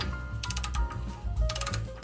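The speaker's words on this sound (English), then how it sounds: "Ratchet." Ratchet wrench clicking while working on a vehicle's rear axle and wheel bearings, with quick, close, evenly spaced metallic ticks in short runs separated by brief pauses.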